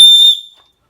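A single loud, piercing blast from an emergency whistle carried on a trail-running backpack, a shrill steady tone lasting about a third of a second before cutting off into silence.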